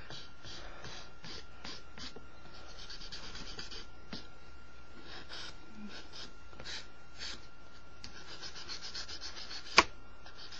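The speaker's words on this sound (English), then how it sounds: "I get my nail file. And I'm going to file it to shape." A nail file rasps back and forth across a fingernail to shape it square, giving soft repeated scratchy strokes close up and quiet, with one sharp click near the end.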